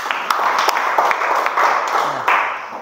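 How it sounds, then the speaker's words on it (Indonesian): A classroom of students applauds a classmate with a short burst of scattered clapping that thins out within a few seconds. "tepuk tangan dulu untuk teman kalian tadi"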